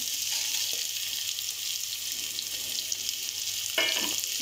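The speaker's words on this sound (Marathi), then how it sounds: "आता आपण फोडणीला बारीक चिरलेला कांदा टाकूया." Hot oil sizzles steadily as finely chopped onion fries in a pan for mutton curry, with a couple of brief scrapes of a spoon against it.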